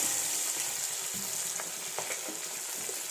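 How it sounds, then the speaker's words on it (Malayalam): Garlic, ginger and green chili sizzle softly in hot oil while being made into fish pickle. A low, even frying hiss runs throughout, with a few faint stirring clicks and no voices. "വെളുത്തുള്ളി ഇഞ്ചി പച്ചമുളക് എല്ലാം കൂടെ അങ്ങ് ഇടുക"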